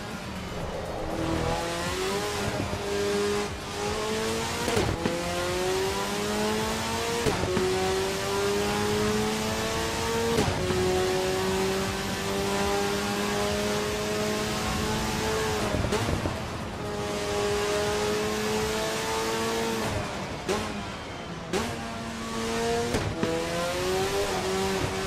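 A race car's engine in the Assetto Corsa EVO sim screams through rising revs, with a sharp drop at each gear shift repeating every few seconds, loud and close, with occasional tire squeal and no talk.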